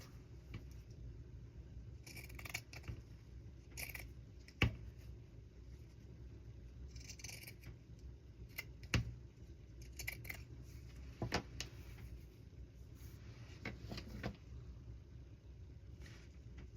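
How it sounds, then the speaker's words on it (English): Scissors cutting paper in half for handmade ephemera, giving a series of quiet snips and rustles spread over a low background rumble, faint and close. "I'll just cut this in half."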